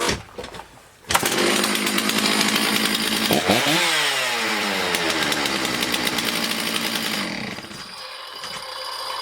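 Stihl 066 (MS660) chainsaw, freshly fitted with a replacement carburetor, fires up and runs loud and close, revving and settling into a steady high-pitched roar that holds for several seconds before easing off.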